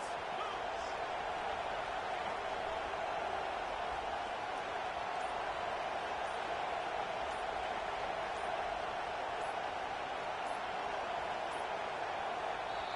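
Steady stadium crowd roar in NCAA 24 college football, a dense continuous wash of noise from the stands holding at a constant level throughout, with no clear talk above it.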